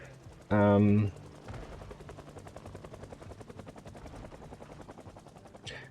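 Helicopter in the video game Project Zomboid makes a steady rhythmic rotor thudding that pulses through the whole stretch, moderately distant, after a brief loud burst of sound at the start.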